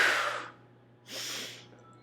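Two heavy breaths during a strength-building yoga flow, a long airy exhale followed by a shorter one after a brief pause, close and soft, with no talking.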